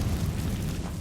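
A Confringo fire spell bursts in Hogwarts Legacy, giving a dense, roaring explosive rumble that fills the whole second at steady, loud intensity, heavy in the low end.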